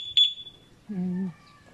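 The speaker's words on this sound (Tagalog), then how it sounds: "Pag ginalaw mo yan, mag-a-alarm yan, oh." Motorcycle anti-theft alarm set off by moving the parked bike: a short, shrill electronic beep followed by a lower warbling tone, close and fairly loud, with no talking over it.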